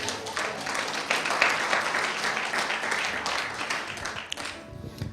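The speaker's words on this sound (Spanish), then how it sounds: "denle un aplauso al Señor" A church congregation gives a dense, sustained round of applause for about five seconds, fading near the end as a voice begins.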